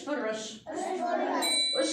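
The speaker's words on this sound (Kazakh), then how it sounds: "Мынау қоңырау." A small hand bell shown to children in a kindergarten music class rings with bright, clear dings, a couple of short strikes close by, over the voices of a teacher and young children talking.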